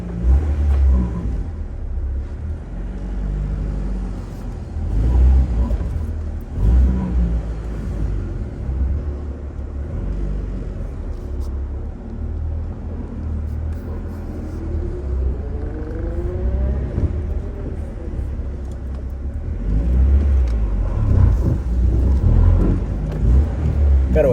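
A 1991 Acura Integra with a B18C1 engine idling and revving in a rising, falling rumble, up close, with a couple of climbing rev sweeps and brief voices in the background.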